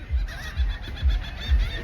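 Fat geese near a trash can honk repeatedly in a steady rhythm, close and loud, with about four low honks over steady outdoor background noise.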